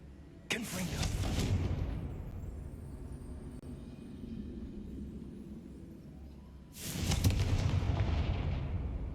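Two fiery Confringo spell blasts in Hogwarts Legacy, each a sudden heavy boom followed by a long roaring rumble that slowly fades. The second comes several seconds after the first.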